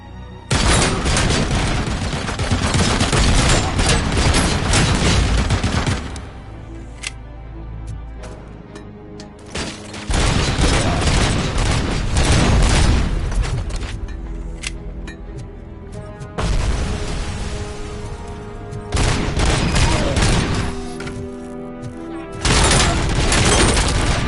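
Heavy machine gun fire rages in the game RoboCop: Rogue City, long dense loud bursts mixed with booms and impacts, broken by a few brief lulls.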